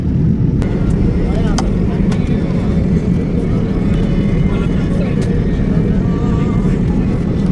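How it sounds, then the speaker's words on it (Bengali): An airliner takes off at night from Dammam, heard from inside the cabin as a steady, loud, unbroken engine roar and rumble, with a faint murmur of voices underneath. "এই যে দেখুন বিমান উড়া শুরু করেছে"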